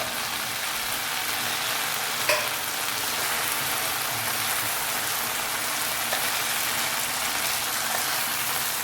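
Previously fried chicken pieces for dragon chicken are stirred in a hot pan, crackling with a constant close sizzle and an occasional scrape of the spoon.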